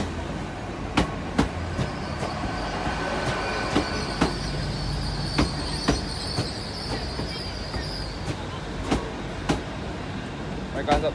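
A Class 800 train moves through Exeter St David's station with a steady rumble and a regular clickety-clack of wheels over rail joints. A thin wheel squeal rises in the middle of the pass.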